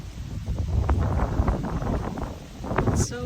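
Wind gusting outdoors in northern New Jersey nature, buffeting the microphone with rumbling bursts and rustling that swell and fade across a few seconds, with no voices.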